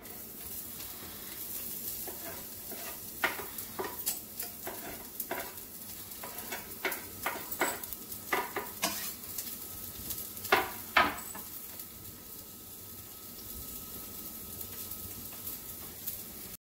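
Ground chuck and garlic cook in olive oil in a pot, giving a steady sizzle under repeated scraping and stirring taps, close and moderately loud, with no talking.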